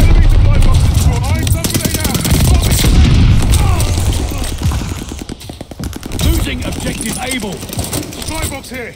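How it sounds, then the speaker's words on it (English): A stun grenade goes off in Call of Duty Vanguard 6v6 Domination, a loud boom opening a dense, continuous mix of game gunfire and in-game voice callouts. "Throwing stun grenade"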